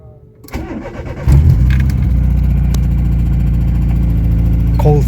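A VW Golf Mk1 engine cold starts: a brief crank, then it catches with a loud rise and settles into a steady, rough, throbbing idle close by.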